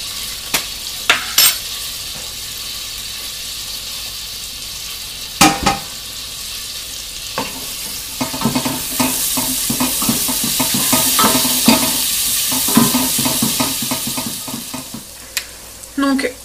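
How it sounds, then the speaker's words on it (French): Garlic sizzles in a pan of melting butter, a steady bright frying hiss punctuated by occasional sharp clinks and scrapes of a utensil stirring against the pan, close and without talk. "je mets une cuillère à café dans mon beurre en fait qui est en train de fondre, je le mets tout de suite. Je mets une cuillère à café d'ail"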